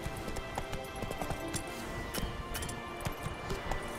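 A horse gallops in The Witcher 3, its hooves drumming in a rapid continuous clip-clop over a dense wash of game ambience, no talk over it.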